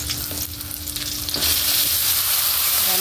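Mixed vegetables go into a hot pan with sautéed tomato and burst into loud, crackling sizzle that holds steady up close, with faint scraping from stirring early on.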